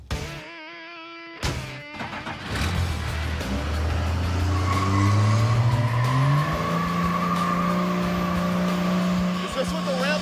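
A Cummins 12-valve diesel with a Gear Star transmission, swapped into a 1965 Ford Econoline, roars through a burnout: a sharp bang, then a rising engine rev and a long, steady tire squeal, with people talking nearby.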